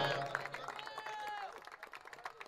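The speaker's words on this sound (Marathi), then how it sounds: "जिग्नेशसाठी टाळ्या होत्या." Applause from a crowd at a cricket premier league prize distribution, scattered claps rising and thinning over a couple of seconds, with a whistle and crowd chatter mixed in.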